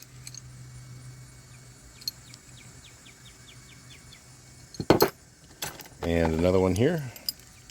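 Craftsman chain wrenches from an estate sale tool haul clink and rattle as they are handled, with metallic jangles, a couple of sharp knocks and a brief spoken remark over quiet room noise.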